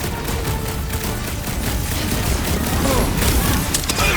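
Sustained cover gunfire in the Guardians of the Galaxy video game, a dense continuous barrage of shots and booms running loud throughout with battle noise layered over it.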